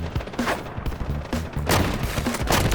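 M870 shotgun firing in the Delta Force video game, a rapid string of loud, close booming blasts with several shots overlapping in quick succession.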